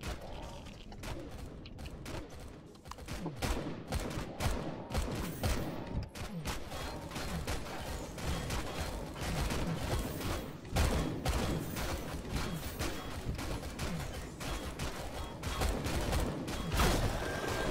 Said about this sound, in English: we've opened up with light machine gun fire